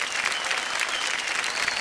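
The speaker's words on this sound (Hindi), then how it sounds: "जोरदार तालियां बज जाएं" A studio audience at a KBC quiz show bursts into dense, steady applause, loud and close with no gaps.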